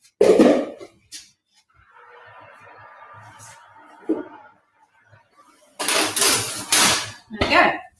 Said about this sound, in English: and then that goes straight into the oven